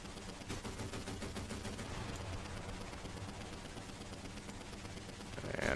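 Rapid bursts of 20 mm cannon fire in War Thunder, from an Italian aircraft, rattle on continuously and densely for several seconds, loud and close, with no talk over them.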